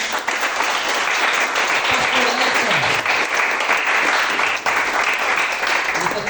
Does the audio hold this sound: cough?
no